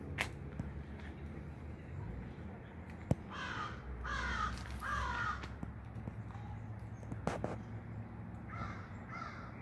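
Crows cawing in a natural park: a few rough, repeated harsh calls in short bursts, fairly close against a quiet outdoor background with scattered clicks and knocks.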